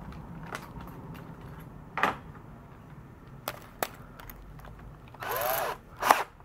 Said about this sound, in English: We're going to pre-drill it.